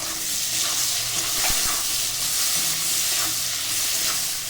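Onions and tomatoes fry in a pan for a Bengali-style duck curry, making a steady, close sizzle with occasional stirring clinks and scrapes against the pan and no talk.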